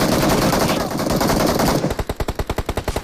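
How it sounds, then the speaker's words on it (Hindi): UMP submachine gun fire in BGMI, a dense wash of shots followed by a clear rapid string of about a dozen evenly spaced, punchy rounds, loud and close. "यहां पे बिल्कुल ही यूएमपी थी, बढ़िया बंदूक थी, लेकिन सारी गोली मिस कर दी"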